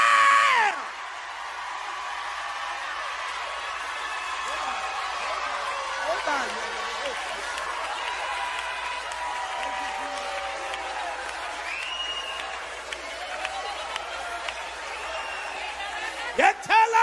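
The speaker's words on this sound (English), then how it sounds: "And somebody ought to scream," A church congregation at a fiery preaching service screams and applauds in a loud, sustained roar for about sixteen seconds, with many overlapping voices and a quick drop-off at the end.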